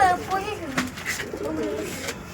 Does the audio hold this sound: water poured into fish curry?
no